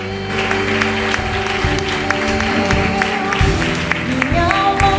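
A church congregation applauding during a worship service, with sustained clapping under organ or keyboard chords and a singing voice.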